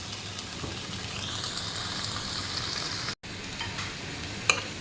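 Garlic and tomato fry in a pan with a steady close sizzle, a brief break, then continued hissing and a sharp clink of stirring near the end.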